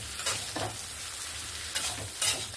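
Cauliflower stalks, potato and eggplant are stirred with spices in a sizzling pan, with steady frying hiss and a few soft scraping strokes of the spoon, close and alone.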